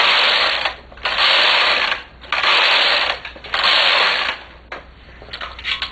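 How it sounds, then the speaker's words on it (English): Knitting machine carriage swept back and forth across plain rows, four loud rasping, ratcheting passes about a second each, separated by short pauses, close up with no talk. "let me do 4 rows of plain knitting"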